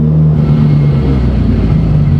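The Koval Evo, a street car of over 1500hp run on Emtron KV8 management, idling loud and close with a deep, lumpy, steady rumble and no distinct revs.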